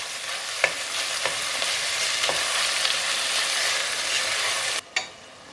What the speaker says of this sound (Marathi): तेल गरम झालंय, त्यामध्ये मी कांदा घालते. कांदा आपल्याला छान लाल रंग येईपर्यंत परतून घ्यायचा आहे.